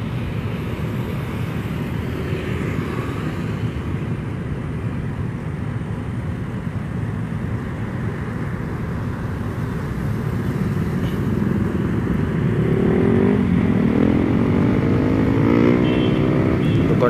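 Busy but free-flowing Tuesday-morning road traffic at the Simpang Gelael intersection makes a constant engine rumble, with a nearby motorcycle revving and growing louder toward the end. No one speaks.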